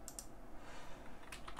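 A few crisp keystrokes on a computer keyboard while typing a push button label in a CAD sequence drawing, short clustered clicks at the start and end over a soft background hiss.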